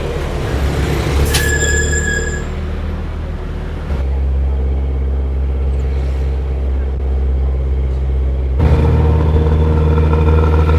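Busy road traffic near a wet market in Phuket, Thailand, heard from a moving bus: a loud, continuous engine drone and road rumble with a brief hiss early on and shifts in pitch, close and steady throughout.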